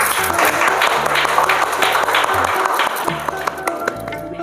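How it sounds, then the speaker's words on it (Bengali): A studio audience at a reality cooking show's chaat special episode bursts into loud, sustained clapping, with a tonal musical backdrop and some voices mixed in. "জোরে হাততালি"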